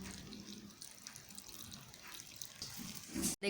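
Water poured from a tap into a fried potato mixture while preparing pakora batter in a kitchen, a steady soft running stream lasting a few seconds before a short splash and a cutoff.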